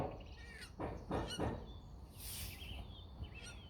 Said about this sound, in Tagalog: Anong klaseng ibon yan mga pare